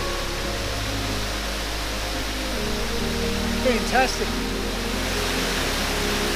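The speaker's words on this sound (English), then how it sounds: "this magnificent waterfall here in Katoomba" Waterfall in Katoomba running strongly after overnight rain, a steady broadband rush that fills the whole scene, with a person briefly speaking over it.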